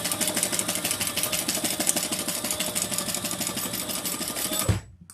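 A sewing machine bastes across the bottom of a piece of fabric in a fast, steady, close run of stitches, then stops abruptly near the end.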